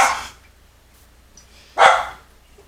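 A spoiled pet dog barks twice, two sharp close barks about two seconds apart with quiet between, no talk.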